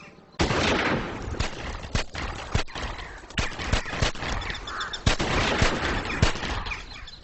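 Gunfire in documentary footage of an armed standoff with ATF agents, heard as a burst of sharp, loud shots, some in quick clusters and others spaced, over a noisy, rumbling background, with no talk.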